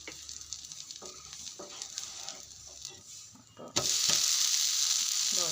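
Dosa batter frying in coconut oil on a hot pan, with scattered crackles and light scraping at first, then a sudden loud, continuous sizzle that bursts up close and keeps hissing steadily.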